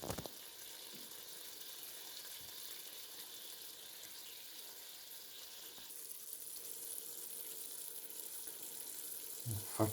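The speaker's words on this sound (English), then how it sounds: "And we're getting a little bit of a sizzle." A mallard crown pan-frying as its fat renders, giving a soft, steady sizzle and crackle that holds even throughout at low volume, with no voices.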